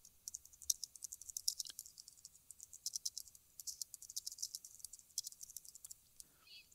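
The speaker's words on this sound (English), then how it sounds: "and then you can just type your tweet right in here" Typing a tweet on a computer keyboard: quiet, close, irregular clusters of light key clicks continuing for several seconds with short pauses, no voices.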